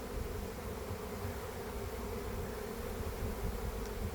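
A prime swarm of honey bees fills the air with a dense, continuous buzzing drone, steady and close without letup.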